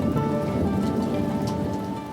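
A summer rain shower hisses steadily on surfaces outdoors, a dense, even wash of falling drops with low rumbling underneath, no voices present.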